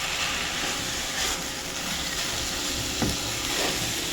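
Food stirred in a sizzling pan while cooking papaya lumpia filling, a continuous bright frying hiss with faint scraping strokes of the utensil.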